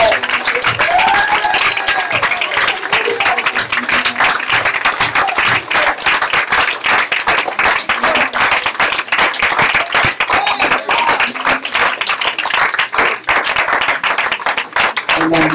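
Sustained, loud applause from a church congregation fills the room, a dense and steady roar of many hands clapping without a break.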